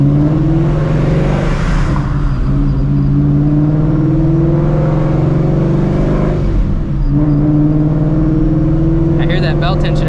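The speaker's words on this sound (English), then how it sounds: "I hear that belt tensioner." Loud, steady engine drone from inside a supercharged Shelby GT350 on a first drive on new wheels and tires, with a belt tensioner whine riding over the constant rumble and a slight dip in pitch midway.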